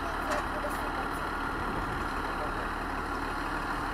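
A farm machine engine runs steadily and loudly during wheat threshing, a dense continuous drone with heavy low rumble that fills the whole stretch, with voices faintly mixed in.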